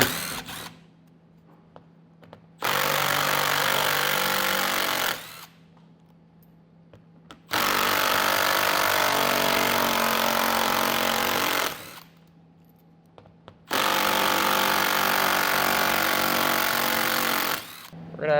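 A power tool with a 10mm socket runs in three long bursts, backing out bolts along the edge of a panel on a 2021 Tesla Model Y during a Curt trailer hitch install, loud and close, with quiet gaps between.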